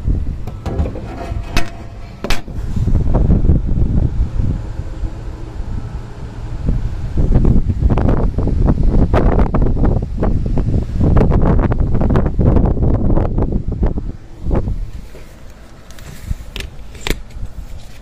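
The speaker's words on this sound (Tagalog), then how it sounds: "Yung pagaspas ng hangin." Strong wind gusts buffeting the microphone, roaring and rumbling in waves with occasional crackles and rustles.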